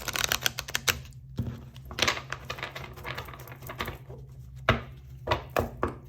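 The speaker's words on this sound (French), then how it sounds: "Je vais prendre 3 cartes. Je voudrais juste avoir le temps de les brasser un peu." Tarot cards being shuffled by hand, giving a dense run of quick papery riffles and taps in uneven bursts, close up, with brief pauses and no talking.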